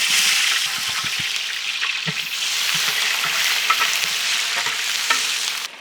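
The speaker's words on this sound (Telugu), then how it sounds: "బగారా రైస్ కోసం స్లైస్డ్ ఆనియన్స్ యాడ్ చేద్దాం." Sliced onions fry in hot oil for bagara rice, a loud steady sizzle with occasional stirring clinks and scrapes close by, without any talking.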